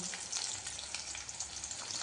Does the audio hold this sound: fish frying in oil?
yes